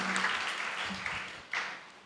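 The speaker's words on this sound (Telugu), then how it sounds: "ఒకసారి చప్పట్లు కొట్టి దేవుని మహిమపరుస్తాం" Church congregation clapping in praise during a Resurrection Day service, a steady spread of applause at moderate distance that swells and rises again near the end, with no talk over it.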